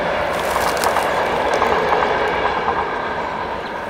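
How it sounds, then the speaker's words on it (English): A train rumbles steadily past nearby, a loud continuous roar with faint clickety-clack wheel noise throughout and no talk. "And train spotting."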